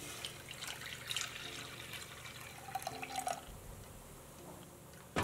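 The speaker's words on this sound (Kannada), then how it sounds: "ಪಾತ್ರೆಗೆ ಬೀಟ್ರೂಟ್ ಕುದಿಸಿರೋ ನೀರು ಹಾಕ್ಕೊಳ್ಳೋಣ." Boiled beetroot water is poured into a cooking vessel for rasam, a soft liquid splash and trickle with faint drips, mostly quiet apart from a couple of brief splashy swells.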